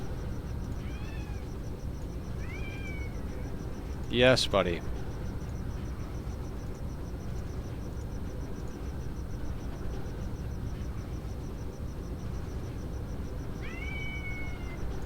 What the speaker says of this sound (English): My kitty is not happy about the situation here.